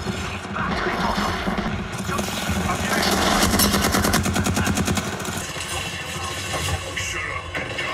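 Rapid video game gunfire rattles in dense automatic bursts with mechanical clatter, loud and close, while a voice talks over the shooting.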